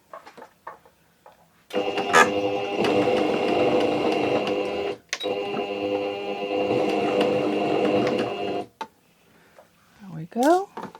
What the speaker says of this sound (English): Stitching fairly close to the edge here